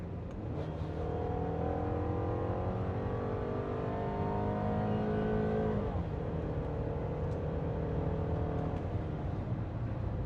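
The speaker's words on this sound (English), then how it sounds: "we are gonna get on it here and feel all that horsepower" A VW Tiguan accelerates hard on an open road, its engine note climbing steadily in pitch under a loud interior drone, dropping at a gear shift, then rising again more gently.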